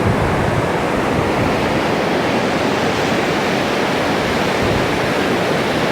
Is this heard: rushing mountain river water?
yes